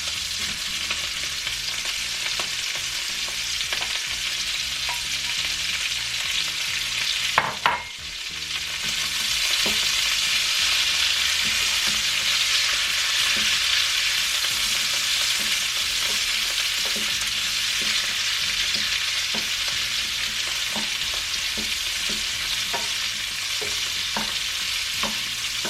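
Sausage and vegetables with aromatics frying in a pan for a frittata, a steady loud hiss of sizzling fat with scattered pops and a brief stirring clatter partway through.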